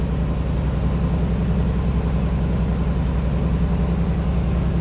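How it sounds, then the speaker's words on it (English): A 1974 Mercedes-Benz 450 SL engine idles steadily up close with a small exhaust leak, a continuous low rumble with a faint rapid ticking pulse running through it. "there was a small exhaust leak"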